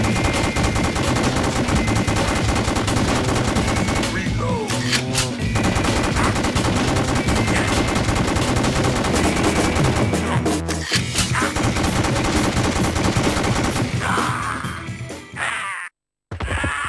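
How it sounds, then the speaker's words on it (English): Gunfire from the House of the Dead Overkill Extended Cut on PS3 with Move rattles almost without pause in a loud, dense barrage of rapid shots over game noise, breaking off briefly near the end. "Whatever it is, just shoot it."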